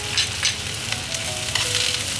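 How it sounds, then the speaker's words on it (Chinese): Chopped scallions stir-fried in hot oil in a pan alongside browned tofu pieces: a steady, close sizzle and crackle with faint stirring, no voices. "放葱花炒香"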